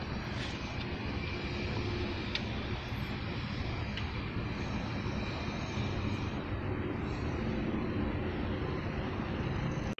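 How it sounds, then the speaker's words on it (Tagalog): Steady broadband roar of a distant airplane near Riyadh airport, constant and low throughout, with no talking over it. "Yun guys, may aeroplano."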